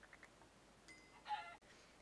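Minecraft chickens cluck in a few short, faint, high calls close by, with no talk over them.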